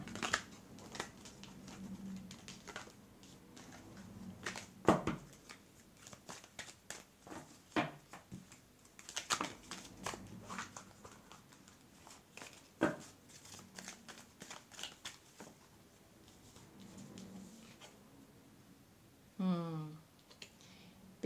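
Tarot cards shuffled, handled and slid back into the deck during a card reading: continuous soft papery rustling, flicks and light tapping, with occasional sharper clicks and a voice speaking quietly in places.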